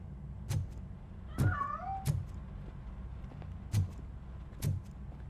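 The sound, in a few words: cat meowing in a video game (Robocop Rogue City)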